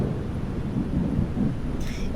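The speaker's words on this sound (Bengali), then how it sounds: "তাই তো দেখছি, ভারী বৃষ্টি হচ্ছে।" Heavy rain with rumbling thunder in a Bengali fairy-tale cartoon, a low continuous roll of thunder over rain hiss, moderately loud and without speech.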